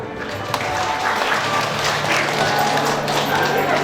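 Crowd clapping at a wedding ceremony, a continuous patter of applause lasting the whole stretch, with voices mixed in underneath.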